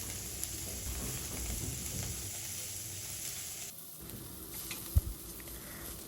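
Garlic and onion fry in a pan over low heat, a constant close sizzle with a brief dip midway and one sharp clatter near the end, without speech.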